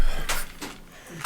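Two sharp, breathy sneeze bursts, close together and up close, indoors around a tabletop gaming session, followed by a softer trailing noise.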